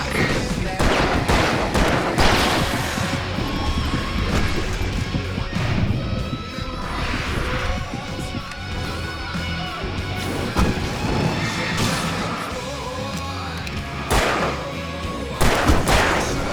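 Fireworks explode in Alan Wake Remastered, loud and dense volleys of bangs and crackling blasts that roll on almost without pause.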